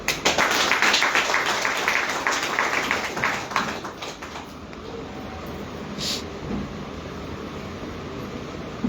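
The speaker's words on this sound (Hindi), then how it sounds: "एक जोरदार तालियां" An audience at a direct-selling business seminar applauds in a dense burst of clapping for about four seconds, then it thins into steady room noise.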